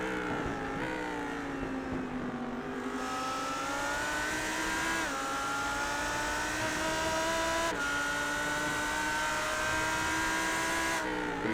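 A pack of race cars in a sim racing game lifts off together, the engines' droning whine sliding down in pitch as they brake into turn one, several cars overlapping in a continuous roar.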